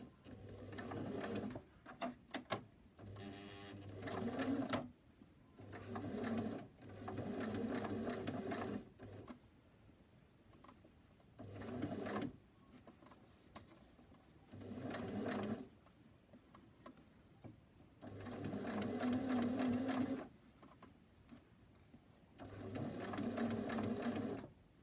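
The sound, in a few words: sewing machine stitching a fabric face mask seam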